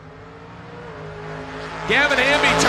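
Drag racing cars launch down the strip at a Halloween weekend event at SGMP, one of them a Camaro. An announcer talks over a low rumble, then a loud engine roar surges in near the end.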